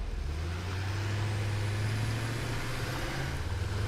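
Truck driving in the video game Satisfactory, a steady low engine drone and rolling rumble continuing throughout at moderate level without any talking.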